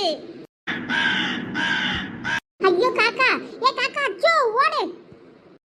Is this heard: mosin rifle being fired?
no